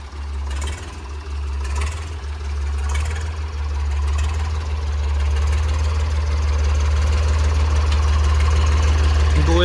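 A Swaraj 735 tractor diesel engine idles steadily and close with a deep, even chugging that grows slightly louder toward the end.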